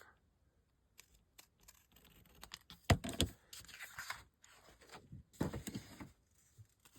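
Paper for a mini purse journal is cut with scissors in a run of crisp snips and rustles, irregular and close, louder in bursts through the middle.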